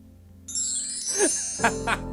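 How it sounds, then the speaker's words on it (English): A gentle chime rings out during a live sports talk show, with bright sustained high tones and a couple of soft strikes near the end. It sounds clear and fairly close, with no talk over it. "feel free to offer us a gentle chime"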